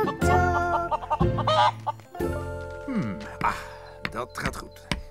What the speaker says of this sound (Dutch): Dank mevrouw Kip. Tok, tok, tok, tok